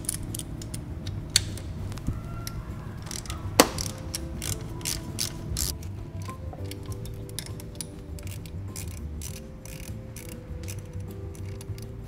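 A 5mm Allen key works loose the V-band clamps on a BMW 335i N54 turbo outlet: soft metallic clicks and ratcheting taps with a couple of sharper ticks over steady garage background hum, close and fairly quiet.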